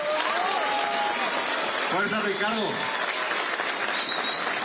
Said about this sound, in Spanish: Vamos a darle un fuerte aplauso de vuelta.